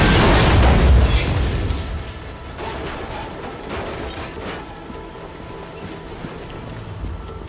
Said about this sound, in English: we have a powerful charge pulse that blasts objects apart when they meet